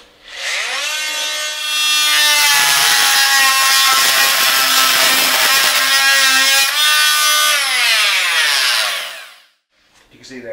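A Fein MultiMaster oscillating multi-tool slices straight through timber with a loud, sustained high-pitched buzzing whine lasting several seconds, rising in pitch as it starts, with a gritty rasp while the blade bites the wood, then winding down to quiet.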